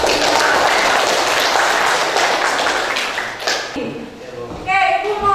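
Classroom clapping from a group of pupils, a fairly loud burst of applause that fades out, followed by an adult voice speaking.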